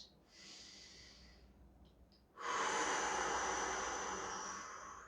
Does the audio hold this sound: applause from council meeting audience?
no